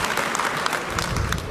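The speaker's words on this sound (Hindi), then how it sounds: "जोरदार ताली ऊपर वाले के लिए एक बार" Audience at a political rally clapping loudly and steadily, a dense crowd applause with no clear speech.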